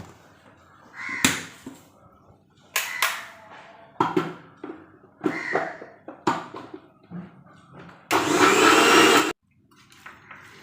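Crows caw several times nearby, then a mixer grinder roars loudly for about a second, grinding with water, before cutting off abruptly.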